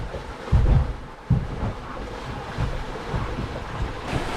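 A Gemini catamaran sails north through waves in roughly 12 to 16 knots of wind in the Sea of Cortez, Mexico, with loud, gusting wind buffeting the microphone over the rushing wash of water along the hulls.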